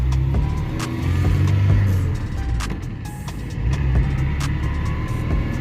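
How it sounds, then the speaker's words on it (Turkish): A 1997 Tofaş Şahin car loses traction and spins its wheels on pulling away. A low, rough engine roar rises and falls, with sharp clicks and thumps over it, heard from close by. "Araba hemen patiye düştü."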